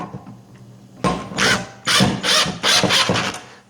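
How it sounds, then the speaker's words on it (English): An impact driver drives screws into a three-tier plant shelf in a series of about five loud, rattling bursts, each a second or less with short pauses between. No one speaks. "I'm gonna get my impact driver"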